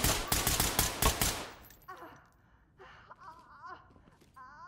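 Rapid bursts of gunfire crackle loudly for about a second in the game Ready or Not, then give way to quieter game sounds, faint chirps and gasping breaths.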